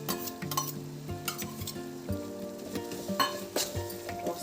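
Green chilli paste made from ten ground chillies goes into a frying pan for gongura chicken pulao and is stirred, with a steady sizzle and spatula scrapes and clinks against the pan, no talking.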